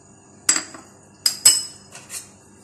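Kebab mince being mixed with onion, green chilli, garlic-ginger paste and egg in a metal bowl, heard as several sharp clinks of a spoon against the bowl, spaced irregularly, close and clear against a quiet kitchen.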